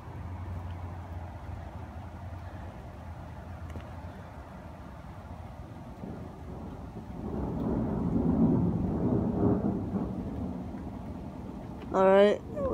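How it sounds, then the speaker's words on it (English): Deep rolling thunder swells and rumbles over a steady wash of rain, then fades, and a voice briefly speaks at the very end. "it's just a bunch of booms and it's raining"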